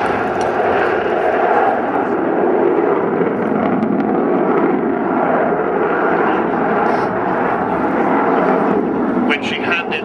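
Broad, steady aircraft roar of a nuclear bomber flying at the Fairford air tattoo in July 2010, loud and continuous throughout with no letup.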